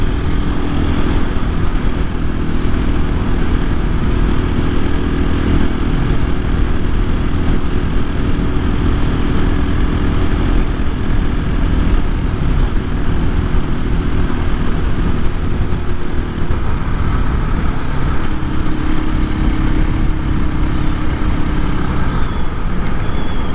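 A 2024 KTM EXC-F 500 Six Days dual-sport motorcycle is ridden, its engine droning loud and continuous up close, with heavy wind rumble and steady engine roar that shifts pitch slightly as the ride goes on.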